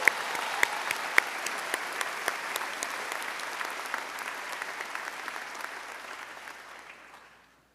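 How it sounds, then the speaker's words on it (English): Applause at a College of Dentistry commencement ceremony fills a large hall as steady, dense clapping from a big audience, gradually thinning and fading out over several seconds. "Again, let's give them all a round of applause."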